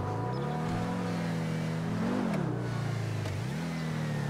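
A Lamborghini Sian supercar engine in GTA 5 revs hard in a steady, loud drone, its pitch climbing and dipping twice as the throttle is worked.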